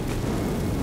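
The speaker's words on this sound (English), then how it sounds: "Fireball!" A fireball spell cast in Elden Ring gives a short, loud, roaring burst of fiery rumble, heard alone with no voice.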